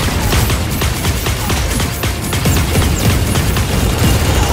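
Dense, continuous gunfire from the mecha battle game Super Mecha Champions, rapid overlapping shots and bursts with booms, loud and sustained throughout with no pauses.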